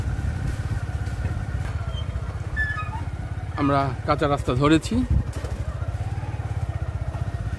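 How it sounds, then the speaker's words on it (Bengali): A motorcycle engine runs steadily throughout, riding along an unpaved village dirt road near the Mymensingh–Meghalaya border, with a voice talking over the middle of the ride. "এখান থেকে আর মোটরসাইকেল যাবে না আমরা এই মোটরসাইকেল রেখে পায়ে হেঁটে যাচ্ছি"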